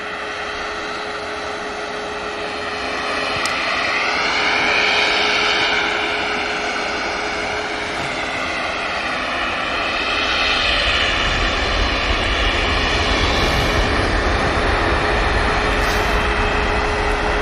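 An Aer Lingus ATR 72-600 turboprop departs from Manchester Airport. Its engines give a loud, sustained drone with a slowly wavering pitch that holds steady across the whole stretch, and there is no talking.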